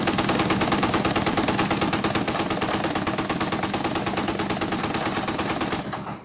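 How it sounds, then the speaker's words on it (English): A machine gun fires a long, unbroken burst of rapid, evenly spaced shots, loud and close, cutting off abruptly at the end. "This is what shooting a machine gun is like."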